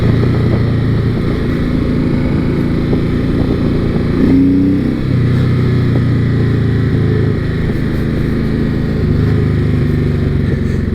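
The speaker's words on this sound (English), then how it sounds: "It's got that rumble character to it, just like any V-twin motor" A Honda VTX1800R 1800cc V-twin motorcycle rumbles steadily and loudly while riding, a deep continuous engine drone with slight pitch shifts as it moves, no voices present.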